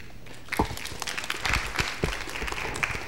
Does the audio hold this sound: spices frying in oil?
no